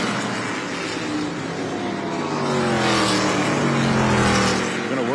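Race cars at the ARCA Menards Series West race at Evergreen roar continuously, engines droning and shifting pitch as they pass, steady and loud throughout.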